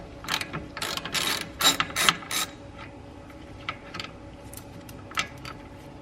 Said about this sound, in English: you can just use a 10mm socket